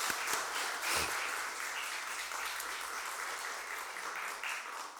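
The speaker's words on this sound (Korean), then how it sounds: "큰 박수 한번 보내줄까요?" Church congregation clapping during a Sunday worship service, a steady, moderately loud wash of many hands that holds throughout without voices.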